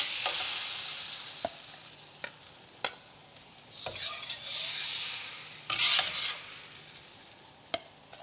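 Rice batter stirs and sizzles in a hot wok for Foochow wok rice paste, a soft steady frying hiss broken by sharp scattered clinks of utensils against the metal and a brief louder splash.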